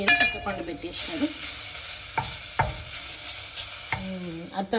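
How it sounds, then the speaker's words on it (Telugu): Cumin, mustard seeds, chana dal and urad dal temper in hot oil for a tomato chutney, giving a bright crackling sizzle with a few sharp clinks of a ladle against the pan and brief faint metallic rattles, close and loud. "అత్తమ్మ టమాటా పచ్చడిలోకి తాలింపు చేస్తున్నారు"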